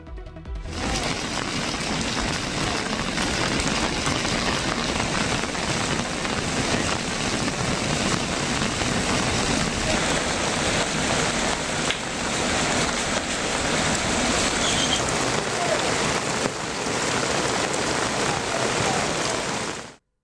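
Moderate rain falling steadily in Ramanathapuram, a continuous even hiss of drops close by, holding level for the whole stretch with no voices.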